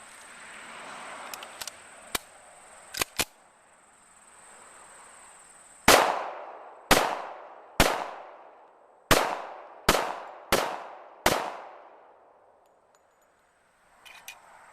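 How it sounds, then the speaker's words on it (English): Seven sharp pistol shots from a 1911 firing homemade cast-bullet loads outdoors, each a crisp crack with a short decaying echo, spaced about a second apart, preceded by faint clicks and handling sounds. "I'm going to shoot these out of my 1911."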